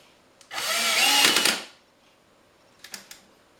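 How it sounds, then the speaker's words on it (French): A hand drill accidentally set to hammer mode rattles loudly in one burst of about a second while driving into wood, followed by a few faint clicks and taps in an otherwise quiet workshop. "une perceuse avec l'option marteau"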